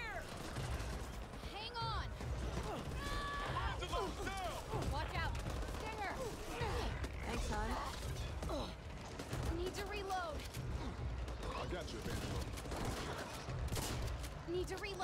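Rapid gunfire from the co-op zombie shooter Back 4 Blood in beta, bursts and volleys running continuously throughout, mixed with game effects, creature noises and players talking over it.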